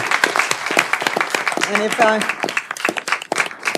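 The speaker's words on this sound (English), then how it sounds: "Let's give a great big round of applause." An audience at a South Carolina state board meeting claps, a dense patter of many hands at moderate volume, partly overlapped by a voice speaking in the middle.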